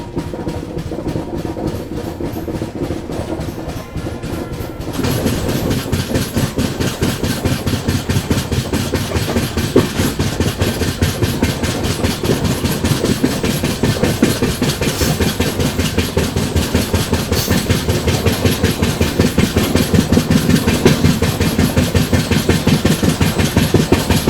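The Falaknuma SF Express rolls along the Bhubaneswar–Visakhapatnam line in eastern coastal India, a continuous close rumble with rapid rhythmic clatter over the rails that becomes louder and denser after a few seconds and holds steady.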